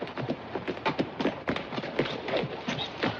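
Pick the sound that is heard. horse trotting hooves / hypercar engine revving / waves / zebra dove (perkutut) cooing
horse trotting hooves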